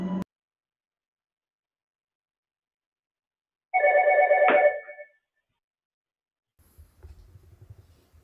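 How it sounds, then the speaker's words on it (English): A telephone rings inside a house with one short electronic burst of ringing that stands alone in near silence, followed by faint low rumbling. "Soon after, a phone rang inside the house"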